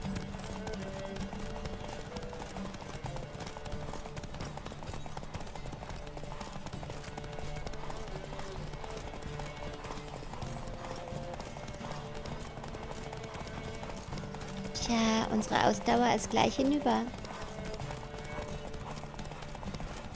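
A horse's hooves pound in a fast, steady galloping rhythm throughout a horse race in The Witcher 3: Wild Hunt, with a voice speaking briefly and a louder vocal burst near the end.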